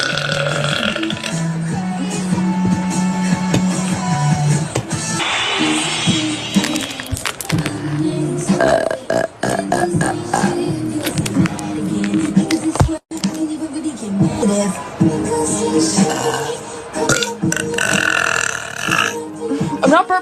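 Loud, long burps repeated one after another up close, deep and croaking, with a person talking between them.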